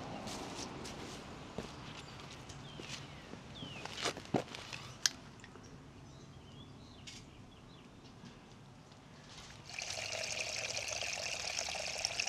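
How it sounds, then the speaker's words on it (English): Water runs and trickles into a newly installed channel drain across a driveway, faint at first with scattered footsteps and scrapes, then a louder steady pour near the end. "Here we've got some water running in here."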